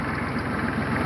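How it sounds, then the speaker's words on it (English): A big tractor engine runs steadily close by, a continuous low, rough rumble with even throbbing pulses and no voices. "Another little ride on the tractor."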